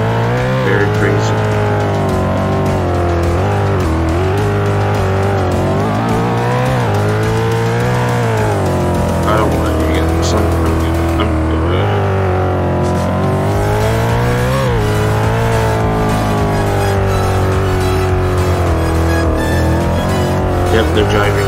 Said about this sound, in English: they're driving very fast